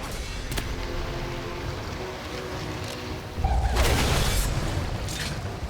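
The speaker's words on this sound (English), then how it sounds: "this is a different explosion. Still one-shots you." A deep, booming explosion from a World of Warcraft delve hits about two-thirds of the way in over a steady rumble of game ambience, with a whooshing burst trailing after the blast.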